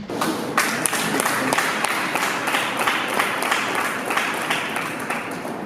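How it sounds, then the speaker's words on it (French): Steady applause from an audience at a ceremony honouring a guest, dense and continuous clapping at moderate distance throughout with a faint voice mixed in. "sous vos applaudissements, s'il vous plaît."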